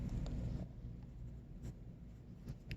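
A pen scratches steadily across paper while fractions are written out by hand, a close, quiet, continuous scribbling with a few short taps, no talking.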